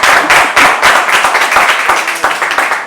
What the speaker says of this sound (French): On peut applaudir pour France.